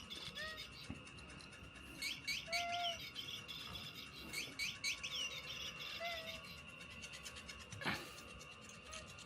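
A pet bird chirps indoors in short, faint tweets scattered over several seconds, with quiet household background noise and no clear talking.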